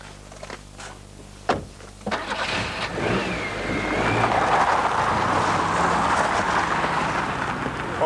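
A 1991 Nissan Sunny hatchback on the move: a thunk and engine start give way to a steady mid-pitched engine and road hum that builds and holds, with no talk.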